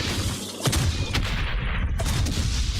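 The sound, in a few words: gunfire in video game Valiant Hearts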